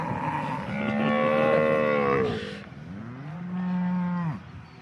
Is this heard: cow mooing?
yes